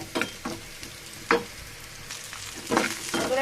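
Onions and green chillies fry in a pan with a steady low sizzle, broken by a few louder bursts of spatter and stirring, close up with no talking.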